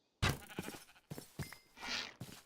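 Sheep bleating in the modded Minecraft game RLCraft, several short bleats in close succession with little else around them.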